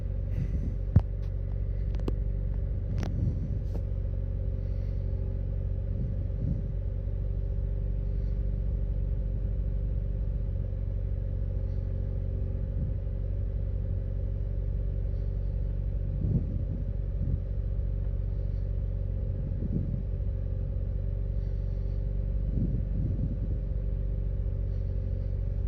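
A Mitsubishi Evo X idles with a steady, deep engine rumble during an SST gearbox teach-in, and the revs rise and fall slightly every few seconds on their own.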